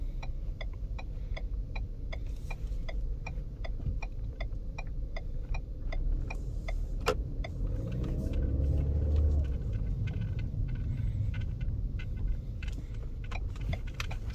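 A 2016 Ford Fusion pulls away along a quiet street, its low engine rumble and road hum steady under a rapid ticking turn signal that clicks evenly through most of the drive.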